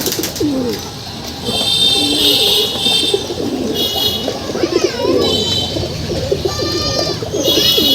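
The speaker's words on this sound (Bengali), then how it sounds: "ওর বাসায় এখন আলী ভাই এখন কবুতর পালে।" Pet pigeons coo repeatedly at close range in a home loft, their soft rolling calls overlapping one another with a few higher chirps, continuous and fairly loud throughout with no talk.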